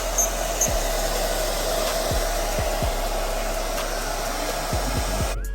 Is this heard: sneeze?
no